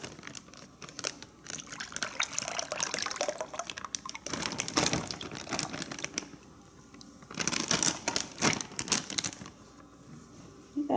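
Sweet and sour sauce marinade poured over food in a bag, giving a soft liquid splashing and dripping in two louder bursts amid kitchen shuffling.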